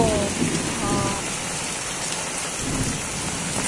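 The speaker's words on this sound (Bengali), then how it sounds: "আমাদের এখানে বৃষ্টি হচ্ছে, একবার দেখুন" Heavy rain pours steadily in a village, a dense continuous roar of drops hitting surfaces with low rumbling underneath, loud and close throughout.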